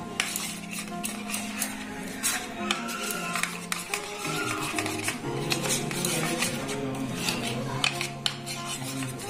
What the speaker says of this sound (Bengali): দিয়ে ব্যাটারটা ফেটিয়ে নেব।